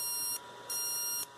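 A reverse-engineered RF induction circuit oscillating in its low-frequency mode gives off a high-pitched electronic whine that pulses in two bursts, switching on and off like an alarm beep, over a steady background hum.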